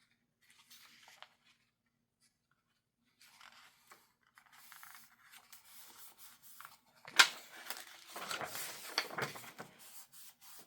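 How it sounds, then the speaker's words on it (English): Paper being burnished onto a junk journal page, with soft scattered rubbing at first and then louder, closer rubbing strokes and a sharp scrape near the end. "Burnish it"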